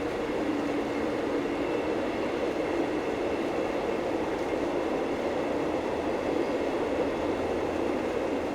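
Glacier Express train of the Rhaetian Railway running through the Swiss Alps, a steady rumbling roll of wheels and carriage noise heard from on board, continuous and moderately loud with no talk.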